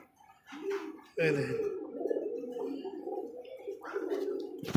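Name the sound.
pigeons cooing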